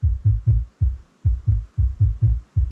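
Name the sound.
kick drum sounds in a music production track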